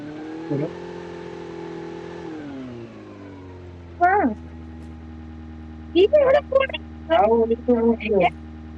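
Vehicle engine in the Call of Duty video game holds a steady mid-pitched drone that dips in pitch partway through, with people talking in short bursts over it.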